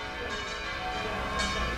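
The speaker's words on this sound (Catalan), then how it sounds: "Les voltes de campanes és un element." Church bells swing in full peals during a town festival in Bellreguard, ringing faintly and continuously at a distance with a brighter stroke near the end.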